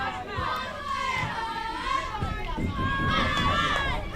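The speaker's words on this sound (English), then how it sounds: "I think we're hearing the difference between the boys and girls game too with that cheering coming out of the dugouts" Girls at a youth softball game cheering and chanting in unison from the dugouts, loud, high-pitched and sustained, with a crowd murmuring around them.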